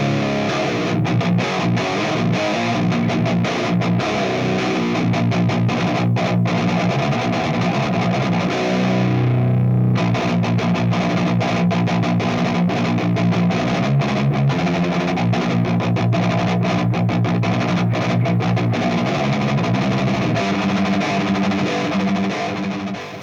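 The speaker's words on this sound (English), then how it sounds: "Now the amp and the cab on their own just sound like this." Heavy metal guitar played through an Axe-Fx III with a 5150-style amp and cab sim, depth at 3 and bright switch on, no boost; sustained distorted chugging riffs with palm-muted chords, loud and steady, briefly thinning out midway.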